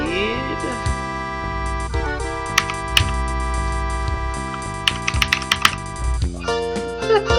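Computer keyboard keys tapped in bursts over a steady background of game music and tones, the clicks sharp and intermittent, near and moderately loud without talk.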